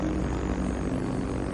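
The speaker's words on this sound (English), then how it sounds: "The V-1 gets nicknamed the Buzz Bomb for the loud noise its jet engine creates" V-1 buzz bomb pulse jet engine, a loud, steady droning roar with a dense low-pitched throb that holds without a break, and no voices over it.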